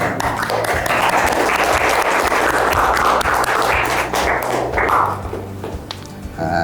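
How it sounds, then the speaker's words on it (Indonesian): A classroom of students applauds together after a discussion in an Islamic moral studies lesson, producing a dense, steady patter of many hands with some thumps mixed in, close and loud, thinning toward the end. "tepuk tangan semuanya"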